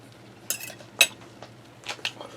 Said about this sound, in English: And I'm just cutting this with a fork.